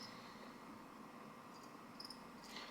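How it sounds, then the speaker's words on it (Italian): A two-spotted cricket chirps in a continuous, fast, high-pitched trill, faint and steady throughout, with a few slightly sharper bursts near the end and no voices. "Il grillo bimaculato"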